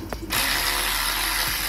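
A 13 mm socket ratchet works bolts off a 2012 Skoda Octavia clutch slave cylinder, giving a close, continuous rapid clicking that starts after a brief pause and runs to the end.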